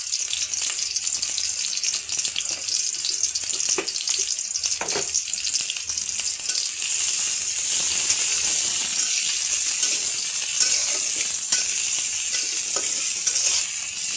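Onions frying in a pan for a boal fish curry, a steady, loud sizzle with a bright hiss, occasional soft stirring scrapes, and no talking.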